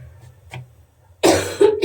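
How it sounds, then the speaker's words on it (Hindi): A woman coughs twice near the microphone, two loud bursts after a quiet stretch with faint low background hum. "खांसी हो गई।"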